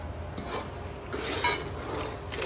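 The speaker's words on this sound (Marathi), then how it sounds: "आता हेही ड्रायफ्रूट्स पण छान आपण भाजून घेऊ." Pistachios, cashews and almonds roast in a pan for suji sheera prasad, making a soft, close scraping and stirring rustle with light sizzling and faint utensil contact, no voices.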